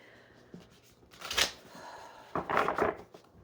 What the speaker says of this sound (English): Anyway, I'm not done shuffling.